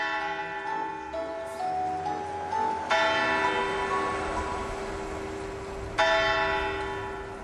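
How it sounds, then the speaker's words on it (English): A large clock tower bell in Bern's old town strikes the hour, with heavy resonant tolls ringing out and long humming decays that overlap as each new strike lands. "the tourists eagerly await the sound of the bell that marks a new hour"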